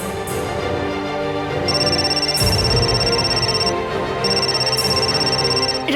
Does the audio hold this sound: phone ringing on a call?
yes